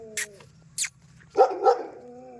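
A guard dog at a red-soil hill farm plot barks twice in close succession, loud and near, after fainter voices in the background.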